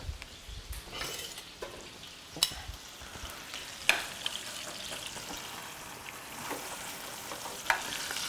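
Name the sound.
steak frying in a pan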